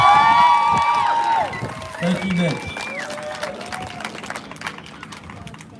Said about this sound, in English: Can we just give one more round of applause for Mitch, please?